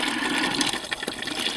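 Water gushes from an opened tap into a bucket under about 3 bar of pressure, a steady, loud rushing flow with splashing, heard close up with no speech.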